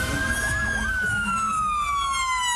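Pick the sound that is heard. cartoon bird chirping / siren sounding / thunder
siren sounding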